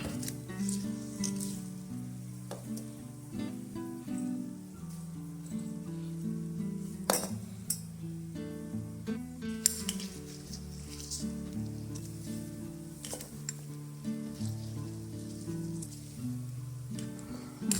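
Potato curry with masala fries in a pan, giving a steady, spattering sizzle under scattered clinks of a utensil, with a tonal background hum throughout.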